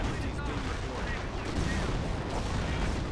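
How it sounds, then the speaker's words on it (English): A German Pak 38 anti-tank gun firing in the strategy game Company of Heroes, heard through dense, loud battle noise of booms and gunfire that blends into a steady wall of sound. "Pack 38 firing away, getting some shots there on the Firefly."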